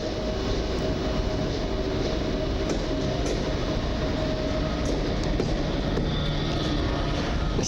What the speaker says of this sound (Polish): przebojowy pociąg RMFFM z Ekspres Intercity Tatry z Zakopanego do Warszawy Wschodniej.